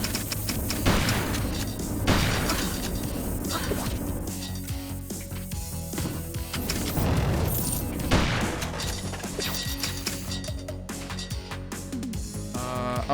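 Gunfire in the shooter game Beyond Sunset, with repeated loud bursts and booming shots hitting in clusters across a busy, constant mix of game sound.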